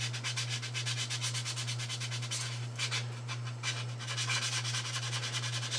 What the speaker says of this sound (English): I like the wet sanding.